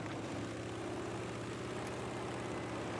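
Airplane engine in the video game Battlefield V, a steady droning propeller hum held at an even, moderate level with no voices.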